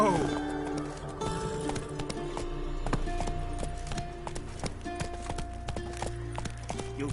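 Roach the horse gallops in a PS4 video game, a steady clip-clop of hooves running beneath game music with someone talking over it and a brief whinny.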